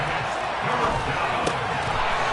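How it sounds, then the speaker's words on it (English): Broad, steady roar of a stadium crowd cheering in a Madden football video game ahead of a big third down, loud and continuous with a faint thump. "The crowd getting into it as we come up on a big 3rd down."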